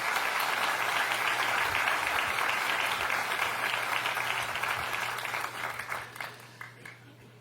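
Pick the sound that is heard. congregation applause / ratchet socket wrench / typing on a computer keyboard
congregation applause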